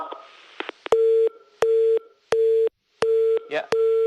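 Repeated telephone busy-signal tones after a dropped call with an ambassador, four or five evenly spaced loud beeps with brief gaps, preceded by a few clicks of line noise.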